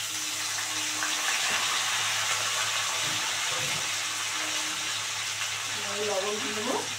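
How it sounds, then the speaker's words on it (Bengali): Shrimp fry in a pan with chopped tomato, giving a steady, loud sizzle that runs throughout, with someone talking softly underneath. "এই যে চিংড়ি মাছটা দিয়ে দিলাম।"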